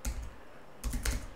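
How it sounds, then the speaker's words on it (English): Typing on a computer keyboard at a desk, two quick bursts of close, soft key clicks separated by a brief pause, with no talking. "typing this command called"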